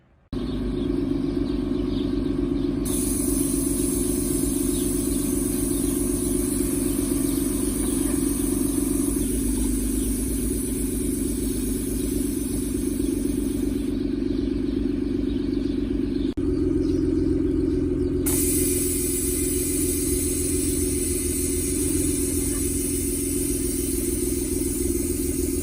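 Steady, loud car engine drone while driving and towing a trailer fitted with air suspension, a continuous mid-pitched hum with a brief shift partway through, accompanied by constant road and wind noise and no talking.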